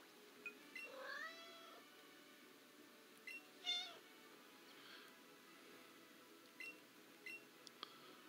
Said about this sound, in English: Got my, brother's cat crying in the background.